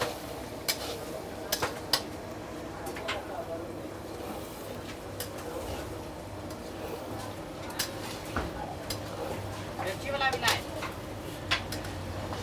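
Fish curry stirred in a pan at a hotel kitchen in Ranchi, soft scraping and occasional clinks of a utensil against the pan over a low sizzle, with people talking throughout.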